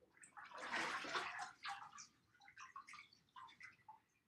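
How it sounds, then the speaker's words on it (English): A papermaking mould dipped into and lifted from a water-filled vat of abaca banana-plant pulp mixed with wildflower seeds, giving soft sloshing and dripping water, faint and close, with no voices. "When you go in, you go vertically and then flatten under the water and lift it up."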